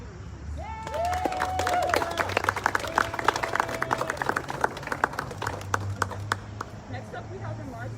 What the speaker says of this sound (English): Can we please give another round of applause for our student regents?